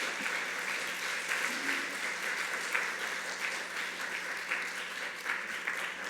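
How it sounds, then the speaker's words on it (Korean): Faint, steady applause from a church congregation welcoming a newcomer during a Baptist service, an even wash of clapping heard from a distance without a voice over it. "박수로서 환영을 하도록 하겠습니다"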